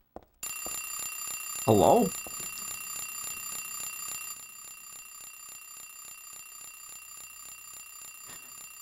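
An alarm clock rings in Silent Hill 3 as a steady electronic tone with a repeating pulse throughout, loud at first and softer after about four seconds, while a voice speaks briefly once near the start.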